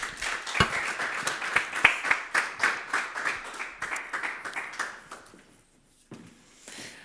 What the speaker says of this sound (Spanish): Pido por favor un calurosísimo aplauso